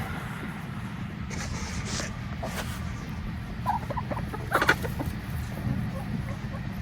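Chickens clucking near a backyard pen, with scattered short clucks and squawks over a low rumble of background noise, growing a little louder toward the middle.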